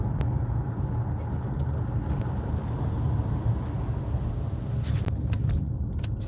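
Steady low rumble of a car moving along the road, heard from inside the cabin, with continuous engine and tyre noise and a few faint clicks and rattles.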